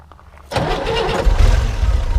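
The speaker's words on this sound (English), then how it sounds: "So we will go ahead and fire her up here for you." A 1965 Chevrolet Corvair Corsa Turbo with a four-speed fires up after a quiet moment, its engine catching abruptly and settling into a loud, steady low rumble close by.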